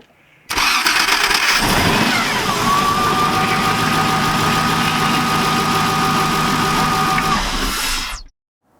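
A boat engine cranks and catches, then runs at a loud, steady idle for several seconds before cutting off abruptly.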